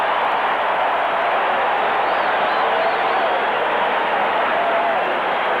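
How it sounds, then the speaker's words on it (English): A football stadium crowd at a 1983 Kansas City Chiefs at Washington Redskins game roars after an interception, a dense, loud, sustained wash of cheering with no breaks. "And listen to the crowd here."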